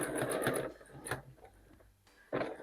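A sewing machine stitching quilt-as-you-go hexagons runs in short rapid bursts of needle chatter, stops briefly, then starts again, close and fairly quiet.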